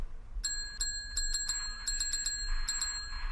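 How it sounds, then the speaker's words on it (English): A bell at a front counter rings in quick bright dings, about a dozen strikes in uneven bursts, clear and close over a quiet room with no talking. "Did someone ring the bell at the front counter?"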